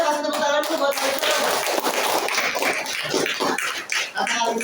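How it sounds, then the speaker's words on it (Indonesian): A room full of people claps enthusiastically, dense applause running throughout, with a brief dip near the end. "kasih tepuk tangan dulu buat Kalisa."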